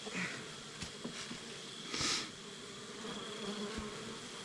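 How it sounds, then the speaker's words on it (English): Soft, continuous buzzing of bees close by, with occasional louder passes as individual insects fly near, no talking. "Put the bees off of there."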